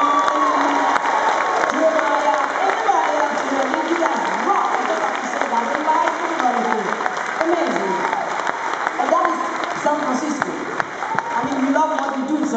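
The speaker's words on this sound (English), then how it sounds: "Please give them a round of applause." An auditorium audience at a live music concert applauds and cheers, sustained dense clapping with scattered whoops and shouts that stays loud and steady throughout, a voice speaking over the crowd at times.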